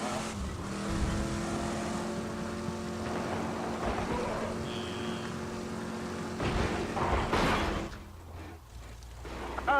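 Car driving in the video game Borderlands 2, a steady engine drone with a thumping collision late on, then the motor drops away to a low rumble.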